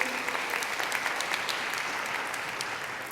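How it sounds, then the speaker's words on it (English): Steady, dense applause fills a school board meeting room as students are recognized, moderately loud and unbroken for a few seconds. "If you will hold your applause"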